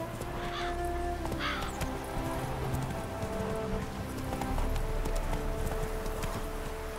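Roach the horse gallops in The Witcher 3, a steady clip-clop of hooves over a constant wash of rain, with a neigh and some game sounds layered in.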